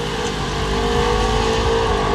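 Drag cars launch hard down a dragstrip during test and tune at St Thomas Dragway, a Mustang among them, their engines a loud, steady roar through the whole moment with no voices over it.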